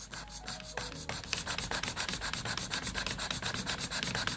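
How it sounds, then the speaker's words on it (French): A metal hand file works across a flat surface in quick, regular back-and-forth strokes, a close, steady, rasping scrape repeating evenly throughout with no voices. "On fait attention à l'inclinaison de notre lime."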